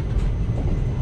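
A departing passenger train rumbles steadily with a low, continuous roar heard from inside the carriage, loud and unbroken over the brief moment.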